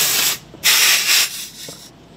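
Compressed air hissing from a roadside air station compressor while filling a low tire, in two loud broadband bursts with a softer stretch between them and a fading tail.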